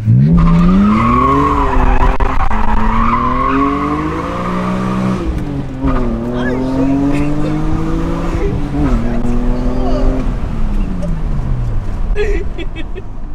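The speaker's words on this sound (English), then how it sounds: "That's a burnout." A car doing a burnout, its tires skidding and squealing in long wavering screeches over a loud, steady engine roar, with excited voices talking over it throughout.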